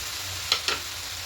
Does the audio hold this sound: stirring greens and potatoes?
yes